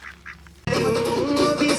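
Duck in a small home garden in Chiplun, Konkan, quacks in a loud, near burst after a brief quieter start, filling the second half of the clip on its own.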